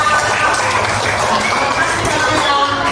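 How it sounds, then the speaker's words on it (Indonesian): A school class claps hands for a teacher, a continuous loud patter of many small hands with no pauses. "coba tepuk tangan buat saya"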